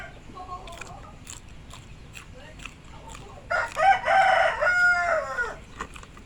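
Chickens cluck softly, then a rooster crows loudly and clearly for a couple of seconds, close by, with no talking.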